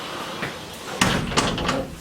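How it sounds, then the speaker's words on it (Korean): A fireplace door swung shut with a sharp clunk and a few metallic rattles as the latch settles, close and fairly loud in a quiet room. "문을 닫을게요."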